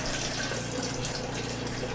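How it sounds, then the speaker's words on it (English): Water drains steadily from steeped home-brewing grains, a continuous close trickle and splash with no talking. "I'll just let these drain for a little bit."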